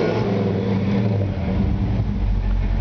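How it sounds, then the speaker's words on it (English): A 1948 Ford Coupe fitted with a 350 V8 idles and rumbles steadily at close range, a loud continuous low engine drone with a slight rev swell midway and no talking. "Great sounding engine."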